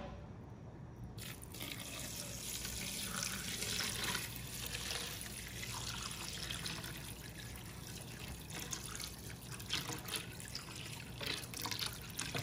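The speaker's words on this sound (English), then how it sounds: "Now we're gonna take filtered water again. We're gonna pour over and really cover" Filtered water pours and trickles steadily over raw Irish sea moss in a bowl, a continuous close splashing and dribbling stream with no talk.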